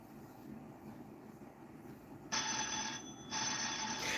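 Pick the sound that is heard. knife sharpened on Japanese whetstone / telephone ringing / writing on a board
telephone ringing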